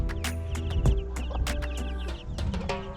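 Chickens and chicks in a yard cluck and chatter close by, a busy run of short clucks and peeps with a few louder calls, with no people talking.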